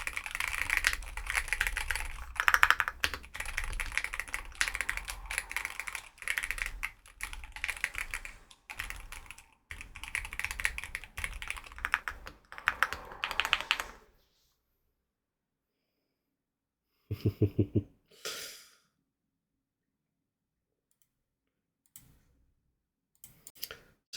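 Fast, steady typing on a computer keyboard fitted with multiple layers of silicone sound dampening, close and continuous for about fourteen seconds, then silence broken by a few isolated key clicks.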